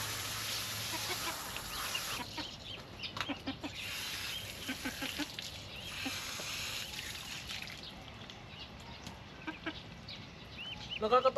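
Backyard chickens and ducks cluck and call softly in scattered bursts, with some quiet voices in the background.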